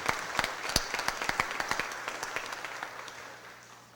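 Scattered applause at a city Board of Aldermen meeting: a modest group claps in distinct sharp claps that thin out and fade over a few seconds in a quiet room.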